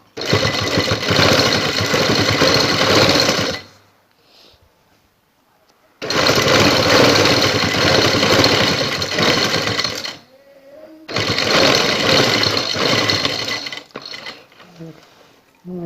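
A sewing machine stitches piping onto a neckline in three loud, close bursts of rapid mechanical whirring, separated by quiet pauses with faint handling sounds.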